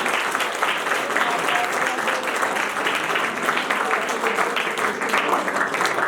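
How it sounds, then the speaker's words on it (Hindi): A room audience claps for the heads of the biology, chemistry and physics departments, steady, dense applause sustained evenly across the whole stretch with a murmur of voices beneath. "इनके लिए भी तालियां हो जाए"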